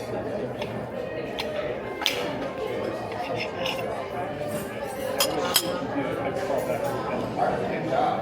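A fork and knife clink against a plate while someone eats an egg at a restaurant in Disney's Grand Floridian Resort. Sharp metallic taps and scrapes come at irregular intervals over a murmur of background chatter.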